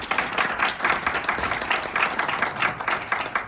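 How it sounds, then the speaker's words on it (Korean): An audience at a Canon camera product event in Seoul applauds to welcome a presenter, steady close clapping with rhythmic pulses throughout the short burst and no talk over it. "큰 박수 부탁드립니다."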